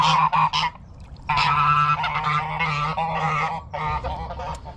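Two geese honk loudly and close by, giving harsh repeated calls that overlap into a continuous agitated chorus.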